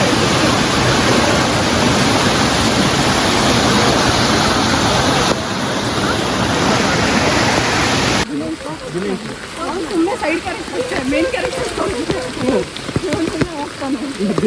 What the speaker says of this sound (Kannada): ಇವು ನೋಡ್ರಿ ಬೇಕಾರೆ ಹೆವಿ ಮಳೆ